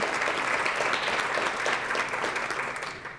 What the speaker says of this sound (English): A round of applause for them too.